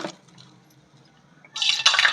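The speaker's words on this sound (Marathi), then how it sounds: "हे पाण्यात घालून घ्यायचे" Freshly fried dahi vadas for a Marathi-style dahi vada recipe splash into a bowl of water, giving a short burst of bubbling, sizzling splashes near the end after a quiet stretch.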